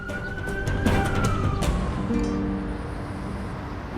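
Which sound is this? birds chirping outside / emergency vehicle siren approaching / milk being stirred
emergency vehicle siren approaching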